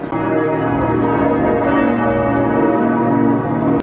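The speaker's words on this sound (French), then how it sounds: "je suis proche parce que vous entendez les cloches" Large cathedral bells in Strasbourg ring loudly and continuously, their overlapping tones forming a dense, sustained peal that fills the space.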